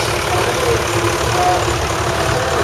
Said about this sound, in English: British tractor now, the Ransomes crawler.